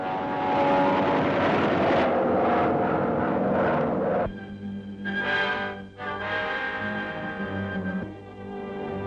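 A German Me-163 rocket plane's engine roars and drones loudly, cutting out abruptly partway before the roar returns and wavers.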